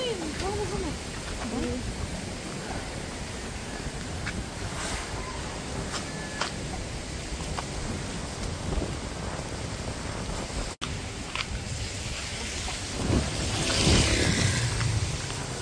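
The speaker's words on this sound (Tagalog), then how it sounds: "Hindi pa rin nawawala yung hangin, yung ulan." A strong wind and rain storm roars with constant noise, a dense rushing hiss that swells louder near the end, with a voice speaking under it.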